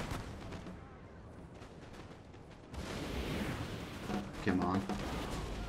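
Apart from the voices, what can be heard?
artillery firing in video game Napoleon Total War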